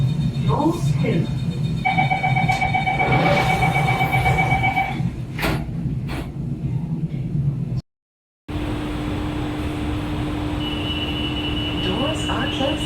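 Singapore metro train running, a steady rumble of wheels on rail with beeping door tones and an electronic chime, then a brief silent cut before a higher-pitched hum and rumble take over.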